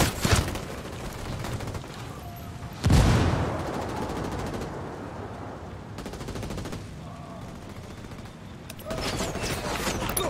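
Bursts of automatic gunfire in Ghost Recon Wildlands rattle out in several volleys, a louder blast near the start then sustained rapid shots at moderate distance beneath game music and occasional voices.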